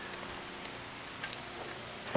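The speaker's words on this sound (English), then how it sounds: "It's starting to rain." Light rain begins to fall outdoors, scattered drops tapping faintly over a steady hiss, with a louder burst of noise right at the end.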